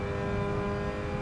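A Mazda Cup race car engine in the Assetto Corsa racing game, driven at Lime Rock, holds a loud, continuous high-revving buzzing drone with steady harmonics throughout.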